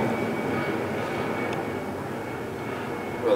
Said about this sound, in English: sorry if the plane is in the background, but it's have the window open and you can hear quite nicely